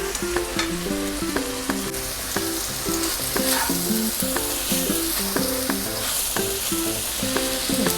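Fried chicken and boiled macaroni sizzle in a pan at a home stove. The close, continuous frying hiss has stirring clicks and scrapes running through it.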